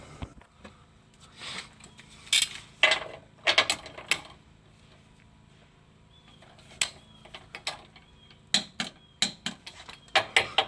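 A torque wrench tightening sway bar bushing bolts on a Dodge Ram 1500 pickup, heard as scattered sharp metallic clicks and ratcheting bursts separated by quiet pauses.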